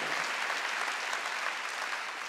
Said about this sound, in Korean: 믿으면 박수 행동으로 옮겨야 된다는 거예요